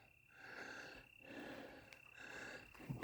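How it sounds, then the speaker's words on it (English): Insects chirp in a dense, continuous trill outdoors, pulsing in rhythmic bursts with brief pauses, faint and steady. "Here are crickets."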